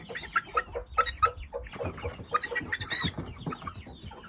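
A young stag gamecock clucks close by in a string of short, repeated calls, with a few sharper squawks in the middle.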